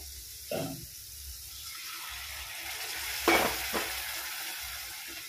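Hot water poured into a pan of frying spices for a paneer tadka hisses in a short burst over a quiet simmer, followed by a second brief splash and low bubbling.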